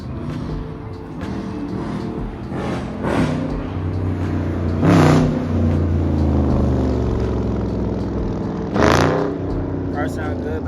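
Honda Civic Sport, a recent model, revving at a car meet, rising in two loud bursts over steady engine drone, with people talking throughout.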